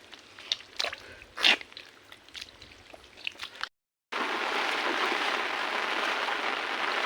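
Rain falling outdoors during hand net fishing: scattered splashes and clicks at first, then after a short pause a steady, dense hiss of rainfall continues evenly to the end.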